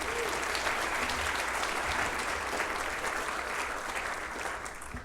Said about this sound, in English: Congratulations, Stephen, everyone. Round of applause.